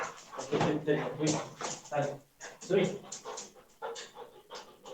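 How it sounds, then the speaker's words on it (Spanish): A dog comes into a room during a lesson, panting close to the microphone in quick breathy bursts, while people speak over it. "acá entra el perro"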